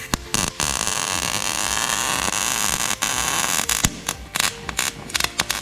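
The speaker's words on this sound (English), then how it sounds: "As soon as you pull the trigger, it'll start to weld." Welder running a bead on a shower panel inside a van, a steady harsh crackling buzz with brief cutouts where the arc stops and restarts, close and loud throughout.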